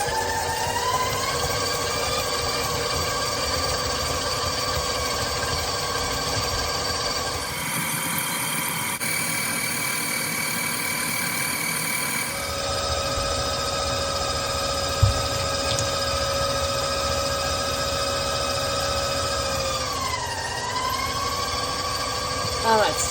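A stand mixer with a paddle attachment whirs steadily at medium speed as it creams cookie dough ingredients for oat cookies, a continuous motorized hum with a brief shift in tone midway.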